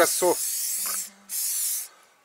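An aerosol paint can sprays a beehive in two long, steady hissing bursts, close and loud, with a short gap between them; a brief voice-like sound comes just before the first burst.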